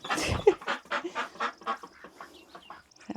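Ancona ducks quack in a rapid series of nasal calls on a homestead, loud and close at the start, then a steady run of evenly spaced quacks that fade slightly, with no talk over them.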